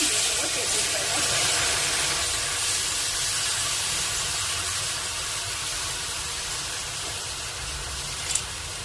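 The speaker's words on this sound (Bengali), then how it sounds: "টক জলটা ফুটতে শুরু করেছে" Tamarind-soured water for a fish roe tok just coming to a boil in a pot, a steady broadband hiss and simmer with faint bubbling, continuous and close, no voices.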